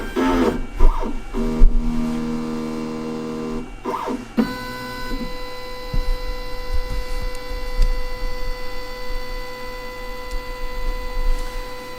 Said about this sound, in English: now the XCarve is moving to its home